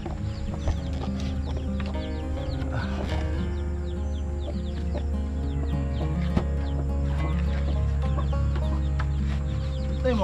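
A hen clucks repeatedly over a dense, steady background of farmyard noise, with other birds faintly audible.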